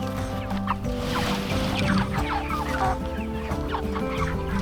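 Several chickens cluck and murmur close by inside a mobile chicken tractor on fresh grass, overlapping busy clucks and chirps sounding continuously without talk.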